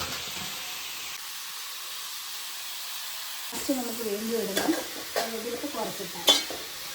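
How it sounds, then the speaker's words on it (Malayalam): Curry leaves crackle in hot oil while being stirred for a Kerala-style chicken curry, a faint hiss at first, then louder sizzling with scraping spatula strokes and sharp bursts, a voice talking over it. "ഇപ്പം നമ്മൾ കുറച്ച് കറിവേപ്പില മാത്രമേ ചേർത്ത് കൊടുക്കുന്നുള്ളൂ"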